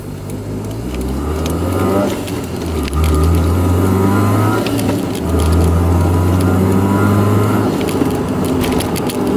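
A 1993 Toyota Corolla with full TRD spec hums steadily with shifting low tones as it drives along a road, road and cabin noise continuous, no talking.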